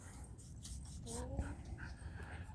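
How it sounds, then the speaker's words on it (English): Dogs whimper and pant close by on a farm, a thin high whine rising in the middle over a steady outdoor rumble, with no clear barks. "I got cats here, and dogs going nuts behind me"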